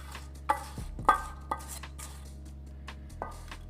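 Pecans dropped into cake batter for a butter pecan pound cake, heard as a few soft, separate knocks and clinks of utensil against bowl spaced over a few seconds, close and fairly quiet.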